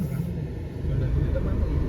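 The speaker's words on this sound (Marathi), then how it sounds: "हे बघा, तुम्हाला दाखवतो गाईज ट्रॅफिक." Heavy road traffic near CST in Mumbai makes a dense, low rumble of cars and buses. A voice speaks over the steady hum.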